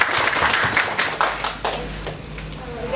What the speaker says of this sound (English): Big round of applause for Sabrish.